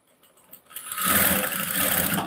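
A sewing machine starts up after a few faint taps and runs a steady, close whirring stitch along a folded blouse neckline band.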